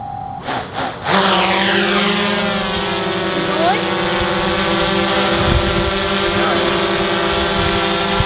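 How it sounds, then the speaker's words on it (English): A GoPro Karma quadcopter drone starts its motors for an automatic takeoff. After a second of quiet handling noise, a loud, steady multi-tone whine begins suddenly and holds throughout, with some wind buffeting on the microphone. "Look out, firing up the motors. Okay, tap for auto takeoff."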